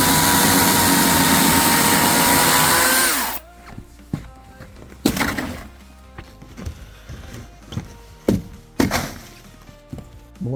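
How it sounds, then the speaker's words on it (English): A chainsaw cuts timber during carpentry on a house build with roof trusses: loud, steady engine drone for about three seconds, then it cuts off, leaving scattered wooden knocks and thunks. "Gave me a chance to do a little more chainsaw carpentry"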